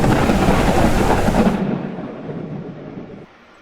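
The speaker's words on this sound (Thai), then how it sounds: "ฝนตกตกเฉยนะ" Rain and thunder in the survival game Mist Survival: a loud, dense rumble of thunder over steady rain that fades after about a second and a half, leaving quieter rainfall that drops away near the end.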